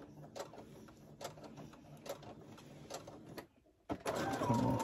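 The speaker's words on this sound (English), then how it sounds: "I'm going to do a little back stitch." A domestic sewing machine runs a short back stitch on towel fabric. The motor hums in uneven bursts, stops briefly near the end, then starts again louder and more steadily.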